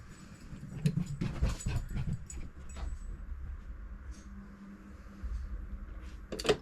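A dog whimpering and panting softly nearby, with faint rustling and clinking in a quiet room.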